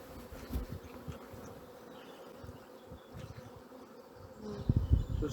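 Springtime honey bees in an open hive while brood frames are lifted out, giving a soft, steady buzzing drone throughout, with a few handling knocks and rustles near the end.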